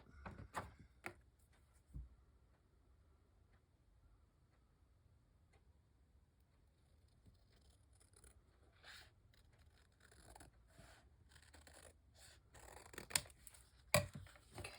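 Scissors trimming material for a craft project, giving a handful of sharp snips and clicks spaced apart, with quiet scraping and handling of paper between cuts, fairly close and alone without talk.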